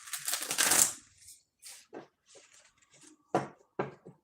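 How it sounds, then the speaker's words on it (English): Tarot cards are riffled and shuffled up close, a dense papery burst at first followed by scattered soft flicks and taps, quiet and alone. "One more shuffle. We'll pull one from the tarot"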